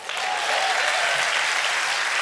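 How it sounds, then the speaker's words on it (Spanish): Dense, loud audience applause at a stand-up comedy show, rising sharply at the start and then holding as a thick, even wash of clapping. "Un aplauso a los señores."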